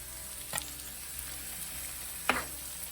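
Onions, tomato, chilies, curry leaves, leeks and carrot frying in a pan for Sri Lankan kottu, a soft steady sizzle with two sharp utensil clinks against the pan.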